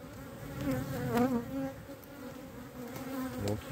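Honey bees buzz at a beehive, a dense, close, continuous hum with a few individual bees droning louder as they pass near, no voices.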